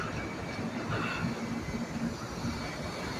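A New York subway train rumbles along with a steady roar of wheels on track and faint metallic squeals.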